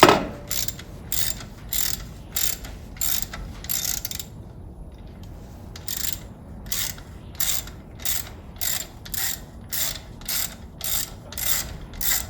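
A ratchet wrench clicks in quick, steady bursts as it backs out an alternator bolt on a Mustang V6 engine under overhaul. The strokes are close and crisp, with brief pauses between runs and no talking.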